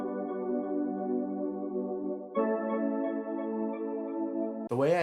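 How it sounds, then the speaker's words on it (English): An electric piano patch from a free software synth plays sustained tones. Two held notes sound in turn, and a brief bright gliding sound cuts in at the end. "First sound is this electric piano right here"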